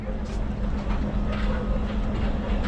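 Local train pulling out of Chabbish Nagar railway station on the Rajshahi to Chapainawabganj line, a steady rumbling roll with faint rail clatter close by, continuous and even throughout.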